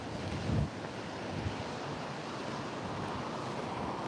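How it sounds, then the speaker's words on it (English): Sea surf breaking on Blackpool beach, a steady broadband wash with wind buffeting the microphone and one brief louder gust or swell early on. "I can still hear the sea."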